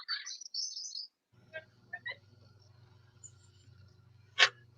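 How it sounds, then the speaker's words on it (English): Birds chirp in a quiet indoor setting: a quick burst of high tweets at the start, a few short scattered calls in the middle, and one sharp chirp near the end over a low steady hum. "It was the birds."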